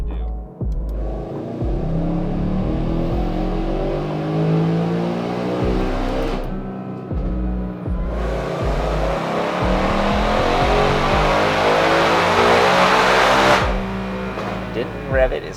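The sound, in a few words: supercharged car engine revving on a dyno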